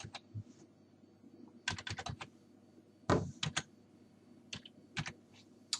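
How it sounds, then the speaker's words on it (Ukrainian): Fingers type on a computer keyboard in scattered, close clusters of quick key clicks separated by pauses, with no talking. "в розділі Шукати пишемо англійською мовою назву сервісу"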